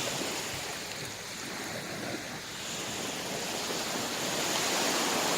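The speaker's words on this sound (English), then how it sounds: "Beautiful ocean." Ocean waves wash onto a beach in a continuous broadband roar of surf that swells slightly louder toward the end, with no voices over it.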